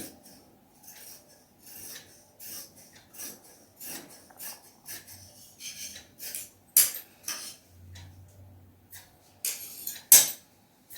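Scissors cut cloth for a long frock in a series of separate snips and scrapes of the blades, close and moderately loud, with irregular spacing and short quiet gaps between them.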